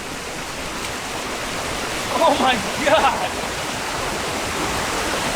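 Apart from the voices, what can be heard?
waterfall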